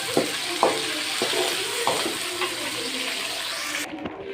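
Garlic sautés in hot tempering oil for a Tamil sundakkai kara kuzhambu, a steady close sizzle broken by a few stirring clatters before the frying noise cuts off near the end.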